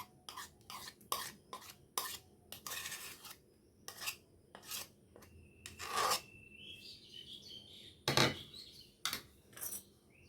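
Mango pulp is mixed into a thick batter for Bengali-style mango patishapta with a spoon scraping in a bowl, making a string of short, rasping strokes, close and clear, with brief pauses between.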